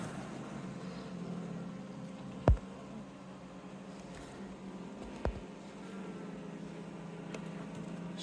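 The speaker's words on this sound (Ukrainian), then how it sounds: "Бджоли багато." A dense, steady hum of many honeybees buzzing close by inside a hive, with a couple of brief knocks partway through.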